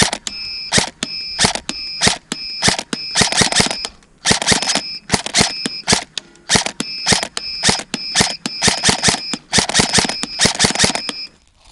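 A Saigo M4 Kenji Short airsoft replica fires 0.25 g BBs at an electronic target 25 metres away, sharp close cracks in quick bursts and single shots with brief pauses, loud throughout.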